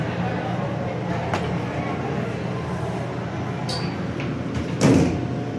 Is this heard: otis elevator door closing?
yes